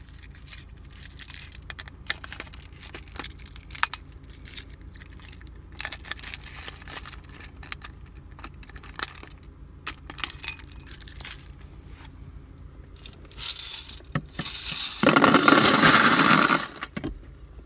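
A vending machine is opened and its coins collected, with jangling keys, metallic clinks and rattles scattered throughout, then a loud rush of coins pouring out near the end, all close.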